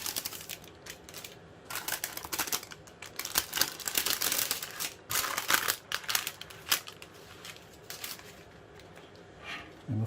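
Baking paper being peeled off the side of a Madeira chocolate heart cake makes close, crackling crinkles in irregular bursts, soft and dry, with no talking.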